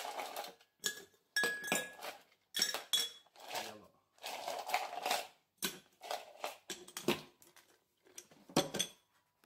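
Glassware clinks and clatters in a kitchen while a cocktail is made in a chilled glass, with irregular bursts of sharp taps and rattling close by and no clear talking.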